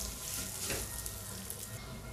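Cashews, charoli and semolina being sautéed in a pan for lapsi rava kheer, a soft steady dry sizzle with light stirring scrapes, fairly quiet and without speech.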